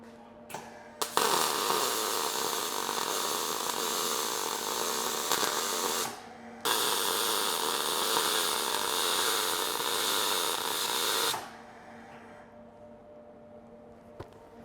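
Welding a short run on a clean metal panel in a fabrication shop: a steady, loud crackling buzz holds for about five seconds, breaks off briefly, then resumes for another five before stopping.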